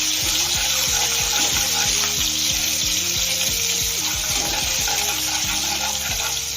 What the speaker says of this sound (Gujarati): અને કઢી પત્તા નાખી દઈએ અને હલાવી કરવાનું છે.